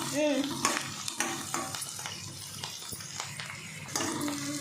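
Green capsicum fries in a pan, with a soft continuous sizzle broken by scraping and stirring clatters from a utensil against the pan at close range.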